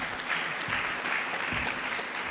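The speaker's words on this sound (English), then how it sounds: "Let's give him a round of applause." Audience applause at an aviation innovation pitch event, a dense, steady wash of many hands clapping from a crowd, loud and continuous for the whole moment.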